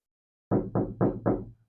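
Four quick knocks land on the cab door of a 1954 GMC truck fitted with sound-deadening material, each one dull, solid and close, in an even rhythm.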